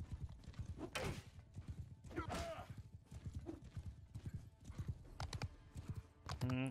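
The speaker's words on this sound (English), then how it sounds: "Killing my horse here." Horse hooves clip-clop through a medieval battle in a strategy video game, with a whinny and a loud neigh near the end, under someone talking throughout.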